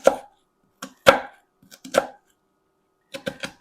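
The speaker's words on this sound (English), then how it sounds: "You want to chop one onion" An onion being chopped with a knife on a cutting board: several sharp, close knocks in irregular clusters separated by short pauses, with no talking.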